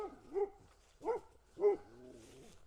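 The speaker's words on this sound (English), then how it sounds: "here comes a dog" A single dog in a backyard gives three distinct barks spaced about half a second apart, fairly close and clear against a quiet background, the last trailing into a softer whine.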